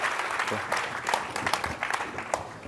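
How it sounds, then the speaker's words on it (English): Applause from a conference audience at a Bitcoin event closing a panel, a dense steady patter of many hands with some voices mixed in, fairly close and continuous throughout. "Please give a huge round of applause for these guys."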